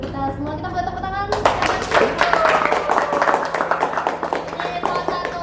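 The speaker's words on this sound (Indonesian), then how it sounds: "Kita buat tepuk tangan." An audience claps hands at an Indonesian sharing event, the clapping bursting in after a moment of sustained tones and continuing as a dense, fairly close patter with some voices mixed in.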